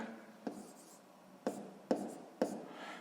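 Pen writing entries into a table for a sixth-grade maths exercise, with quiet scratching strokes and four sharp taps as the pen touches down, close and soft, with no talking.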